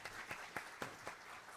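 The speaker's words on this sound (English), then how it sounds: "another round of applause for our wonderful presenter, Dr. Lana Hall" Applause from an audience at a talk on prostate cancer disparities, a steady wash of clapping with a few sharper accents, fairly faint and brief.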